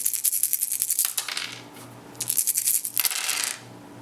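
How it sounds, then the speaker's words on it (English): A big handful of dice for the Age of Mythology board game clatters and rattles in two bursts, a dense rolling patter that briefly settles between them, with no talk. "this is the fun of buckets of dice"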